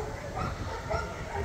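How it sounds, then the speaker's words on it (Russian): Dogs at the Ulubele animal shelter in Latvia, a crowded chorus of barks, yips and whimpers blending into a steady muffled din, with voices faintly underneath. "Смотрите, сколько их штук. 40 собак."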